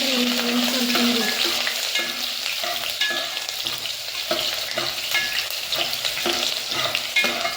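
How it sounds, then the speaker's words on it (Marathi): Sliced onion frying in plenty of hot oil for a village-style Kolhapuri chicken rassa, a dense, loud, continuous sizzle with repeated scrapes and taps of a spoon stirring the pan close by. "कांदा लालसर होईपर्यंत परतून घेऊ।"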